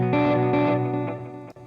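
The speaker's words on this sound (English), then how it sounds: "My reverb." An electric guitar runs through an amp emulator with reverb, a couple of strummed chords ringing out and washing into a smooth decaying tail, close and fairly loud, with a faint knock near the end.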